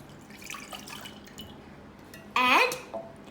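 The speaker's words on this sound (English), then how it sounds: "First, pour 120 ml of whole milk" Whole milk poured into a bread pan, a short bright splashing gush of liquid lasting under half a second against a quiet kitchen background.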